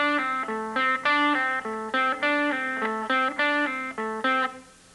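Electric guitar repeating a fast lead lick with pull-offs, a steady rhythmic cycle of bright sustained notes played alone, close and fairly loud.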